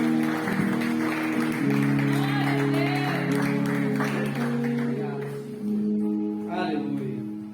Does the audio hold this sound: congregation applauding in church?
yes